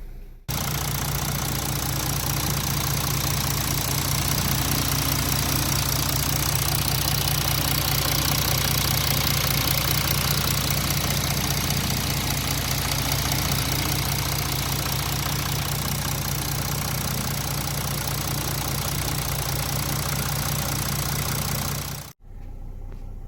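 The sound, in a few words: Mercedes-Benz OM642 engine started and idling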